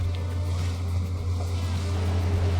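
Twin engines of a 2024 Formula 457 CCS powerboat rumble steadily as the boat is brought up to a low cruising speed, a loud, constant low drone with light water wash and no talk.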